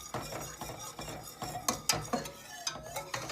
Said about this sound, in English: now we're going to stir in our 2 cups of milk